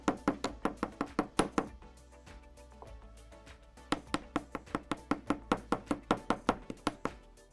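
Ball-peen hammer lightly tapping recycled metal wire to texture it for jewelry: two runs of quick, quiet, even metallic taps close by, split by a short pause.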